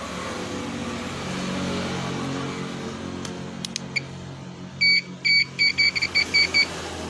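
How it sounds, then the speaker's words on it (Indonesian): Continuity tester buzzer on the wiring of an older Yamaha Nmax scooter, a series of sharp, close electronic beeps in quick irregular pulses following a low engine-like hum and a few clicks, no talk. "jika buzzer berbunyi seperti ini berarti ada kontinuitas atau kabel bodi tersambung"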